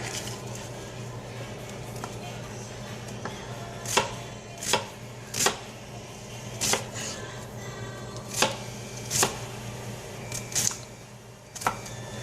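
A knife dicing pears on a cutting board, sharp distinct chops spaced irregularly over a quiet background hum, about a dozen clear strikes.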